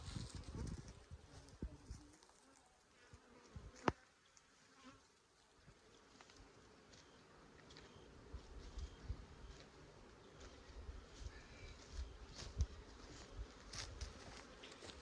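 Robbing honey bees buzz around a hive during a fall honey flow, a faint, continuous hum of many insects in the open air, with a few soft taps and rustles and no talk.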